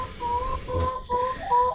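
A hen clucks repeatedly inside a chicken coop, a run of close, fairly loud, steady clucks with other fowl nearby and no talking.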